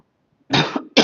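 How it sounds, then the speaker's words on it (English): Two harsh, close coughs from one person, the first drawn out and the second short and sharp, after a moment of near silence. "Winter's coming and I've got a cough already."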